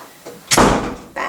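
A house door slams shut with a loud, close bang, preceded by a softer knock of the door moving and followed by a brief rattle as it settles.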